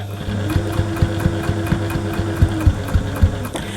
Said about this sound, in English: I'm keeping it really neat, really small stitches right on the edge